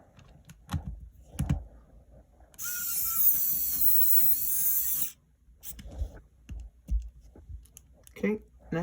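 A screwdriver, apparently close to failing, backs out the top screws of a Game Boy Color during a teardown, giving one loud, steady, whirring-ratcheting burst of about two and a half seconds, with scattered clicks and talk before and after.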